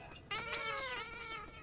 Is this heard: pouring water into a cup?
no